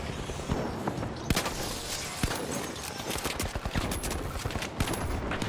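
Shotgun blasts from a Model 1887 in the first-person shooter The Finals, sharp reports spaced irregularly through a busy, dense mix of other game gunfire and effects.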